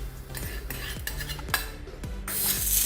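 Flour and ghee rubbed together by hand in a bowl, a steady close scraping and rustling with soft knocks against the bowl's side, no talking.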